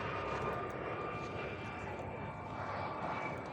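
An aircraft passes overhead during a hike down from Needle Hill, a continuous broad engine rumble heard at a distance, steady throughout, with faint voices underneath.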